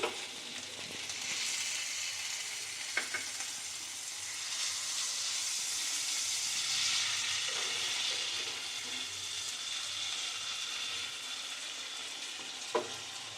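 Chopped tomato fries in a pan with a steady, soft sizzling hiss close by, broken by a few sharp clinks of stirring, with no voices.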